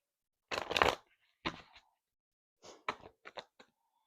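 Tarot cards are shuffled by hand in short bursts of riffling and flicking, close and crisp with quiet pauses between the sets.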